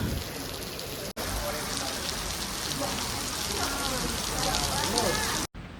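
Rain pouring down in Bhutan, a dense, even wash of drops close by that holds at a constant loudness, broken only by two very short gaps of silence.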